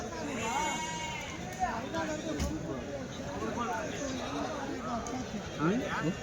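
Several goats bleat repeatedly, some close and some farther off, over a busy crowd of people chattering at a weekly goat market in Kadiri.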